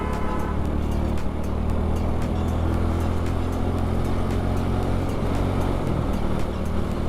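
A KTM RC 390 and a 150cc motorcycle ride together, heard from on board as a loud continuous engine drone with heavy wind rush and low rumble throughout.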